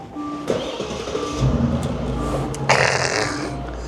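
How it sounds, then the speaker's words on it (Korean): A used Genesis G90 with a 5000cc engine and 160,000 km cranks and fires up, with a click, then a rising low rumble that settles into a steady idle, heard close from inside the car. "자 일단 그럼 시동 한번 걸어볼게요"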